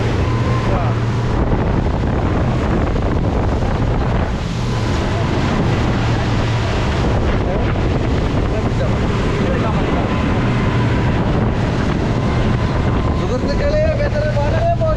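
A fishing boat's engine drones steadily at sea in bad windy weather, with wind battering the microphone and waves sloshing, while people talk over the noise.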